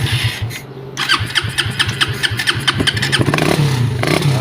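A Suzuki Raider 150 Fi motorcycle with fuel injection fault codes cranks with a short whir, then catches and idles roughly, loud and close, its uneven beat misfiring slightly before revving up.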